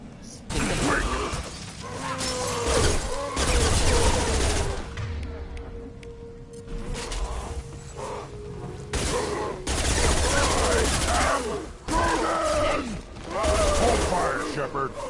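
Gunfire in the sci-fi shooter Mass Effect 2 Legendary Edition crackles in loud repeated bursts with shattering impacts, mixed with combat chatter and a player talking over the fight.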